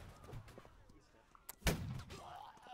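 One loud, sharp musket shot rings out in the 19th-century warfare game Holdfast, a single close blast with a short echoing tail over quieter background noise and some faint voices.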